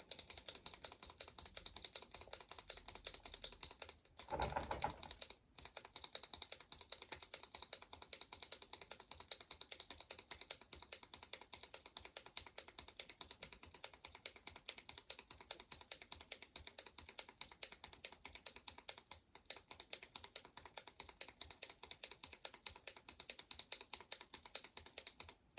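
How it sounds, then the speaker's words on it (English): A pen clicked over and over in a fast, steady stream of sharp little clicks that runs on for the whole stretch, close and crisp, pausing only briefly once, with no talking. "I'm going to click this pen until it hit the time mark hits 20 minutes."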